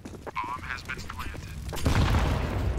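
Gunfire in a Counter-Strike match, a dense burst of shots that swells louder toward the end, with brief voice-like tones mixed in early on.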